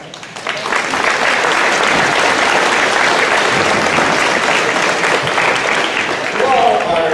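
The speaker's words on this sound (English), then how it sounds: "can we have moms and dads give yourselves a huge round of applause?" Audience at a high school awards ceremony for the class of 2019 applauding, a steady dense roar of clapping that carries on for several seconds, loud and continuous.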